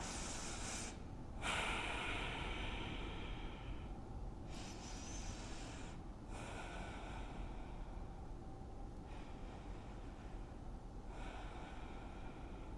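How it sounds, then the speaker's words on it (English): Slow, deep breaths during a seated stretch, a series of soft airy inhales and exhales repeating every couple of seconds, close and quiet with no talking. "Let's take 3 big breaths in like this"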